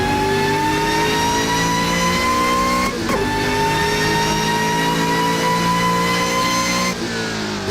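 A Volvo S60R engine revving hard during a downshift, loud and close, with sustained high revs that dip briefly and rise again, alone with no voices.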